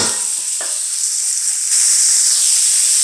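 Beef pieces searing in hot oil for a stew give a loud, steady sizzle and hiss that brightens partway through, with a faint clink early on and no talking.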